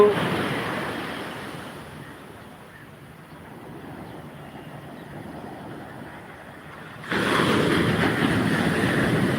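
Sea waves wash onto Kollam beach, a rushing surf that fades and then swells louder again, with wind noise in the background.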